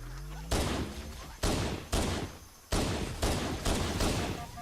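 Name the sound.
gunfire in a video game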